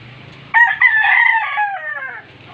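A rooster in a small backyard chicken coop lets out a single loud, close crow lasting under two seconds, rising sharply and then trailing off, with quiet farmyard background before and after.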